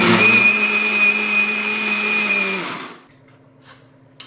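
A kitchen mixer grinder (mixie), used while making idli and chutney, whirs loudly with a steady high-pitched motor whine for under three seconds, then spins down and stops, leaving near silence.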